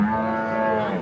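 A calf gives one loud, close, drawn-out moo at a weekly calf market in Punganur, filling the whole brief moment with no talk over it.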